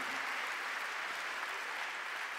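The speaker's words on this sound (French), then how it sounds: "On peut les applaudir bien fort." A seated audience at a Catholic evangelization gathering breaks into steady, dense applause that holds at an even level throughout, with no voices over it.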